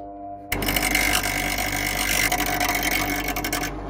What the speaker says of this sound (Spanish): Miren qué fácil podemos reparar esto con un esmeril.